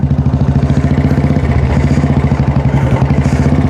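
A Royal Enfield Classic 350 fitted with a replacement aftermarket silencer idles close by, giving a loud, steady single-cylinder thump in a rapid, even rhythm with no voices.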